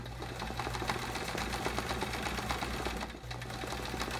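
A sewing machine stitching free-motion quilting runs steadily and close, a dense continuous mechanical whir with a brief dip near the end before resuming.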